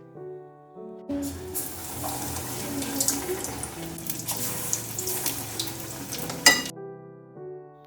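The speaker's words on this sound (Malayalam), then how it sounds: "ഇനി നമുക്ക് കായ മാവിൽ മുക്കി ഓരോന്നായി ഇട്ട് കൊടുക്കാം" Battered plantain slices dropped into hot coconut oil, frying with a steady bubbling sizzle and crackle that starts abruptly and fills the middle of the clip, close and moderately loud, with no talking.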